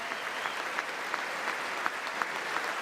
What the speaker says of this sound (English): Well-deserved applause, by the way.